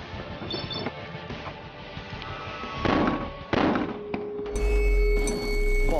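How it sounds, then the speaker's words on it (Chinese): An explosion on a military challenge course goes off in a sharp burst with crackling, firework-like pops and thuds, followed by a deep sustained rumble near the end, fairly loud with no talk. "爆炸"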